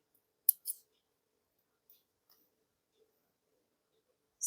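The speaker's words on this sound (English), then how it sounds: "And now we can cut our thread off." Small scissors snip beading thread on a beaded fan earring, two quick crisp cuts close together, then a few faint clicks and light handling sounds in a quiet room.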